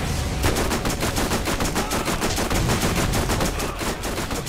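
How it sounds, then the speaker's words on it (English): Rapid automatic gunfire rattles in Borderlands, loud dense bursts of shots in quick rhythm filling the whole stretch with no pause, while a missile is being fired. "You firing the missile."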